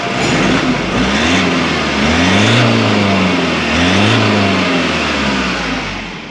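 A straight-piped Ford Ranger Raptor engine idles with a deep drone, then is revved twice in smooth rising-and-falling sweeps, heard up close and loud, with no talking.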